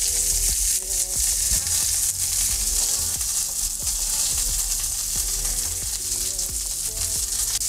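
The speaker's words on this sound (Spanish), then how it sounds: "vamos a caramelizar un poco esta cebolla acá mismo" White onion and about four garlic cloves fry in a pan with a loud, constant sizzle, broken by regular clinks and scrapes of stirring up close.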